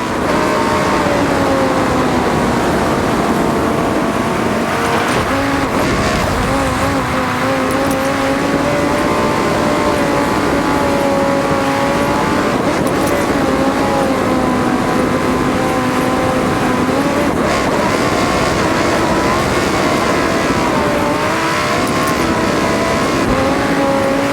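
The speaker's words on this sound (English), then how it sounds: "I wanted to send you down the mountain in a Lambo, and let's be honest, there's only one choice." A Lamborghini Huracán Sterrato on all-terrain tyres races down a ski run in Forza Horizon, its engine droning and revving continuously at steady loudness, with rising and falling pitch sweeps as it accelerates and shifts throughout.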